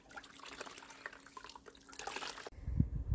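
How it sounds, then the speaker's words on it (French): Water pressed by hand out of a soaked knitted sweater lifted from a basin, giving close, low splashing and dribbling that swells toward the end as the wool is squeezed rather than wrung. "je vais le sortir de l'eau, donc en enlevant un maximum d'eau, en pressant comme ceci et non pas en tordant"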